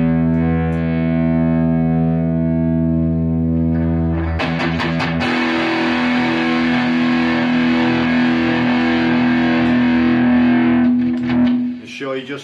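A Gretsch G5222 Double Jet electric guitar, heavily distorted: first a sustained low chord, then a harsher burst of strummed, crunchy chords ringing out loud and close.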